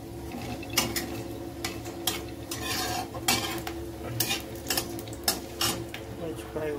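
Cumin seeds frying in hot oil in a pan while a masala for pasta is prepared, with a steady soft sizzle under repeated clinks and scrapes of a utensil against the pan.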